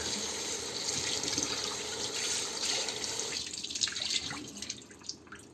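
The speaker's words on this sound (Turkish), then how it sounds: "Şimdi buna bu soğuk su tutacağım." Cold water from a tap splashes steadily over a burnt old teapot in a sink, a close, low-level running and trickling sound that thins into drips toward the end.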